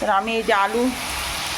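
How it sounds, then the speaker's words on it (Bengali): Potatoes frying in a home cooking pan give a steady, soft sizzling hiss that continues alone after a voice talks over the first second. "এখানে ভাজা চলছে"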